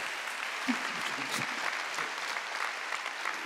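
A church congregation at a Korean Sunday worship service breaks into steady, fairly soft applause, an even wash of many hands clapping that holds for several seconds at a moderate distance.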